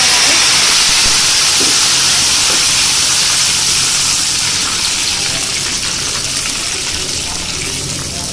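Spices for a tadka tempering hit hot oil with golden fried onions, giving a loud, steady hiss and sizzle that slowly eases off over several seconds.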